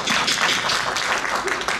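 Brief, steady applause from an audience at a Comic Con Russia presentation, a dense wash of clapping lasting under two seconds.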